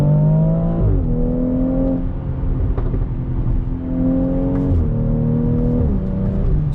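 A BMW X3 M40i accelerates hard through the gears, its engine note climbing steadily, dropping sharply at each quick upshift around one, five and six seconds, then rising again, loud and close from inside the cabin.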